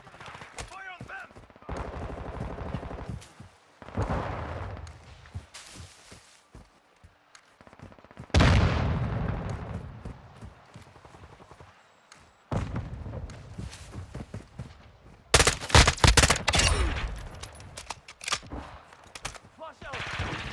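Gunfire in Call of Duty: Modern Warfare II on the Zarqwa Hydroelectric mission, loud irregular bursts of automatic fire and single shots separated by quieter gaps, with a dense rapid volley near the end and shouted voices between.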